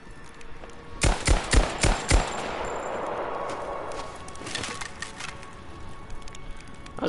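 Several sharp gunshots in quick succession from Rise of the Tomb Raider gameplay, loud and close, then a fading, noisy tail with scattered smaller cracks.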